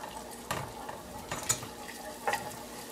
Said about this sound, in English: Got a nice sizzle going on here.